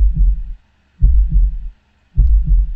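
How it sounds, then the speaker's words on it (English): Loud heartbeat in a video game, a deep lub-dub thumping in close, heavy pairs that repeat about once per second with short silent gaps between beats. "I just heard a heartbeat really fucking loud"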